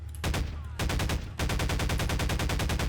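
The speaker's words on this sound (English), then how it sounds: "I thought I shot it." Rapid automatic gunfire in the sandbox game Garry's Mod, loud close bursts of evenly spaced shots broken by a brief pause, then a longer sustained volley.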